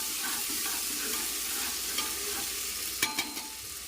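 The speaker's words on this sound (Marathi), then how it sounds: "आता आपण कांदा टाकायचा आहे, मग टोमॅटो, मस्त परतून घ्यायचं आहे ते पहिल्यांदा।" Chopped onion and tomato sauté in a hot pan for spicy masala rice, giving a steady, even sizzle with a few light scrapes of a stirring spoon near the end, close and fairly soft, with no talk.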